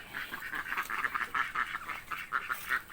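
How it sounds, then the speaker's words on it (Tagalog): Pekin ducks and ducklings on a backyard mini farm quack steadily and continuously, loud and close, with no voices. "Ito yung mga peking duck ko."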